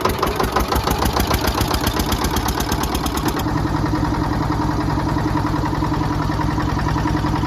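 A vehicle engine is cranked and started at night in a cold forest campsite, then settles into a steady, close, throbbing idle with a continuous high whine above it; no one speaks.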